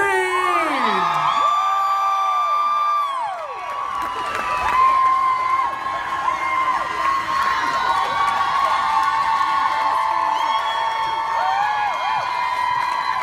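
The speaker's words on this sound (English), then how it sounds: "Please give a warm, warm round of applause for your final act of the night, Hank Green!" A large VidCon crowd cheering, whooping and shrieking for Hank Green, loud and sustained with high-pitched yells and screams layered over applause throughout.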